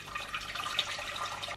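Water for pasta, half of it boiling and half chicken stock, fills a pot with a soft, steady trickling and bubbling wash, faint and continuous, with no voices.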